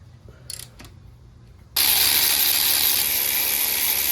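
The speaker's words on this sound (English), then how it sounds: "A little bitty ratchet." A little ratchet wrench works on an engine during fuel injector work, a few faint clicks at first, then a loud, steady, hissing mechanical whir that fills the rest of the clip close up.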